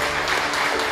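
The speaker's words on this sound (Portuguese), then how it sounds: "Depois você dá uma linda salva de palmas ao Senhor nessa noite." Congregation applause at a collective wedding ceremony in a church, a dense, steady wash of many hands clapping together, fairly loud and continuous with no gaps.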